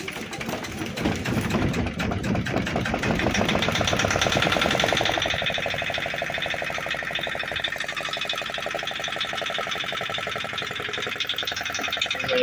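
A hand-cranked Yanmar YSE8 marine diesel engine starts with a loud, rough burst of cranking and firing, then settles into a fast, even knocking idle that stays fairly close and steady.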